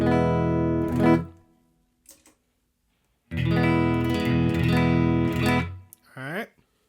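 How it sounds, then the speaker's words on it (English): An electric guitar played dry without an amp simulator, two bursts of strummed chords with a bright, buzzy tone, a short pause between them and a brief sliding note at the end. "So that's the guitar sound without the amp simulator."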